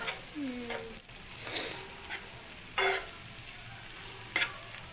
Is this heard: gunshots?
no